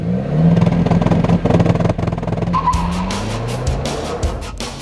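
A Renault Clio RS 200 EDC on a racetrack, its engine droning loudly under hard driving with rising revs, then a sharp tire squeal and a burst of rapid clattering noise as it corners.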